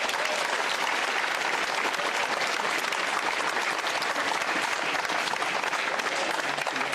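Sustained applause from a large crowd at a Westmeath GAA senior football final replay presentation, a dense, steady wash of clapping that stays loud and even throughout without breaks.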